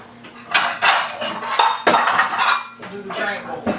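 A quiche mixture of eggs and melted butter is stirred in a bowl, producing loud, close, repeated scraping and clinking of a utensil against the bowl in uneven bursts, with no talk.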